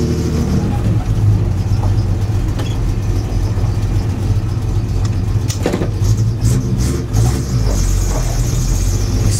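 A Chevy 250 inline-six with a lump port head pulls a 1965 Chevelle wagon at high speed without overdrive, a steady loud engine drone with road and wind noise, heard from inside the car.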